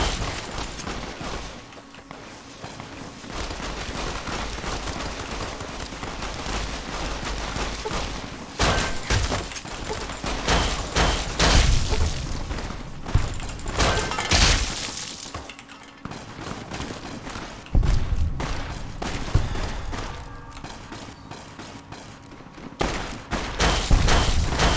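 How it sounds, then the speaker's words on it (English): Gunfire from enemies shooting at the player in the video game Fallout: New Vegas, bursts of shots and impacts coming in waves over a steady game background, with louder flurries in the middle and toward the end. "I don't know why the people that are locked up would be shooting me."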